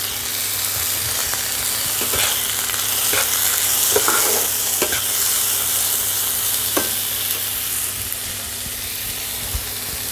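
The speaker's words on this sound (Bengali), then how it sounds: "এবার আমি দিয়ে দিচ্ছি টমেটো।" Tomatoes fry in a pan with onions, a steady sizzle with occasional stirring scrapes and soft clicks, continuous and close throughout.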